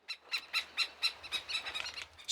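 Antarctic seabirds on King George Island give a rapid series of sharp, squealing calls while mobbing intruders near a chick, close and loud with a faint low rumble underneath.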